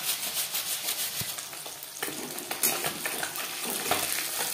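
Grated bata fish fries in a pan, giving a steady close sizzle broken by a few light scrapes and clinks of a utensil, with no talking.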